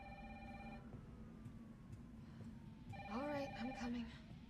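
A telephone rings in a Call of Duty game, a steady electronic trill that rises into a brighter warbling ring toward the end, with a voice talking underneath.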